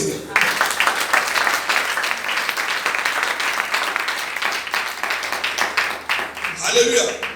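A church congregation applauds steadily throughout, dense sustained clapping with cheering voices mixed in, loud and close, swelling slightly near the end.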